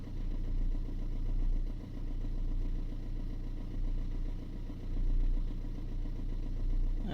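A Fiat Linea engine idles steadily, still warming up a few minutes after a cold start, with an even, low mechanical hum and no voices.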